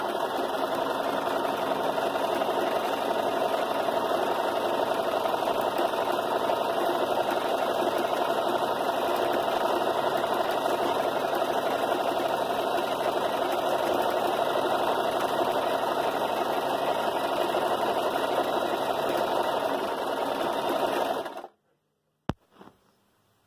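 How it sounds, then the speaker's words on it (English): Sewing machine stitching a table runner at full speed, a loud, steady, close mechanical whir held for over twenty seconds before stopping abruptly, followed by a couple of faint clicks. "it's fun to kind of push the sewing machine a bit and see how fast I can go"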